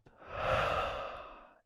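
A single long, deep breath drawn during a posture exercise for desk workers, rising smoothly and then fading over about a second and a half, close and breathy with no talking.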